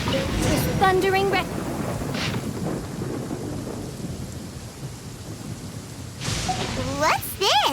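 Thunder rumbles under steady rain in a stormy scene from Genshin Impact, with voices and game sounds rising at the start and end.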